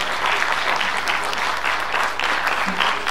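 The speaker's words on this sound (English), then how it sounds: "Can we please have a huge round of applause for our guests?" Steady, dense audience applause for guests at an international film festival, loud and sustained with a few muffled voices mixed in.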